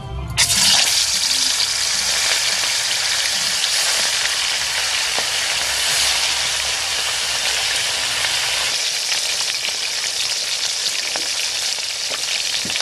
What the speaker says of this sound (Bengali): এখন আমি এগুলোকে ভাজবো।